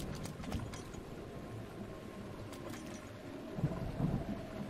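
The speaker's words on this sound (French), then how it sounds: "Ah, il commence à pleuvoir en plus." Steady rain hisses and patters in The Legend of Zelda: Breath of the Wild, with a low rumble underneath. It is continuous and moderately loud, and no one speaks.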